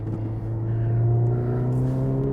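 A 2023 Honda Civic Type R engine hums steadily on a race track, a strong low drone with rising harmonic tones as it builds speed, heard from inside the car.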